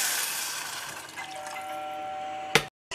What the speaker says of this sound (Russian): наливаю воды